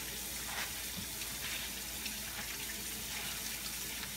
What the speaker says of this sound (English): Then next, we wash them.